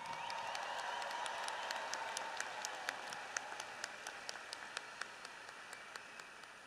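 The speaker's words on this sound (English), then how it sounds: "Let's give them a round of applause." Graduation audience at a high school ceremony breaks into sustained applause, a dense wash of many hands clapping at a moderate distance, with a few sharper individual claps standing out as it continues.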